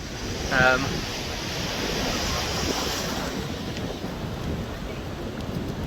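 Steady roar of stormy ocean surf washing onto a beach, a constant broadband rush with a brief faint voice-like sound near the start.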